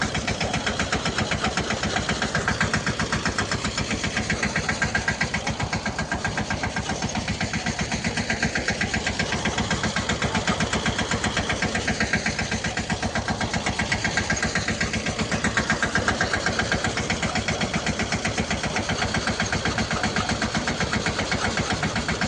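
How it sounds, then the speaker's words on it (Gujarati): Close, loud and continuous, the small tractor's engine keeps up a dense, even chug while powering a thresher at a castor harvest, with no one speaking over it. "આમ ટ્રેક્ટર પણ નાનું છે"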